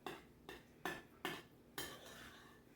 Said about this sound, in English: And then as I'm stirring, I'm mashing down. I'm mashing the yolks down.